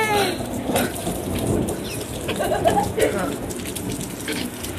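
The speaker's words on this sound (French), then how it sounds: "Vous entendez le tonnerre, c'est un truc de ouf" Steady heavy rain pours down with rumbling thunder rolling underneath, loud and close throughout.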